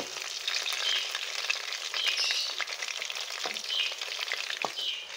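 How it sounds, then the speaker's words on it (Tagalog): Shanghai spring rolls frying in oil in a pan, a dense crackling sizzle with occasional sharper pops, close and steady for a few seconds with no voices. "So, ayan na nga muna natin siyang maluto ng ating Shanghai."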